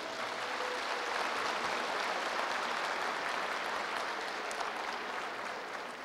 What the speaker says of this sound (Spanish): Los despedimos con fuertes palmas, por favor